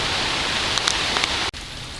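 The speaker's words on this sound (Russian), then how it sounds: "Ну что, дождь и гроза еще не закончились" Steady rain pours during a thunderstorm with hurricane-force wind, a dense close hiss with a few brighter patters, briefly cut off near the end before resuming.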